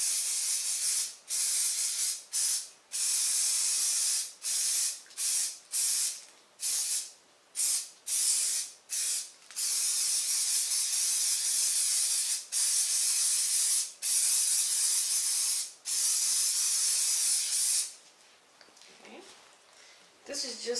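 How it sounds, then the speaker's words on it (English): Repeated bursts of aerosol spray hissing onto upholstery foam on a chair seat, close and loud, in short and long sprays separated by brief pauses, with some rustling near the end. "I'm just going to spray the foam."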